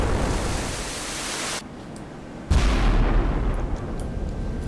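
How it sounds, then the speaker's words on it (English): A broadside of 11-inch naval guns in Sea Power booms out as a heavy, close blast that rolls into a dense rumble over a constant roar of wind and sea noise. "18 11-inch rifles firing at a ship that has only 8 15-inch rifles"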